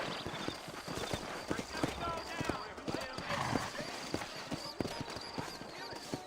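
Horses in the Red Dead Redemption video game: a steady clip-clop of hooves with a neigh, close and moderately loud, under someone talking.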